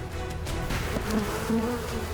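Swarm of honeybees buzzing densely and continuously around a hive during migratory beekeeping, close and steady with a few higher individual wing tones standing out.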